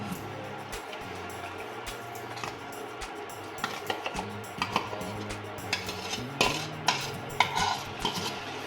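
A spoon scraping and clinking against a metal pot while food is stirred, irregular close taps and knocks growing louder toward the end over faint kitchen background.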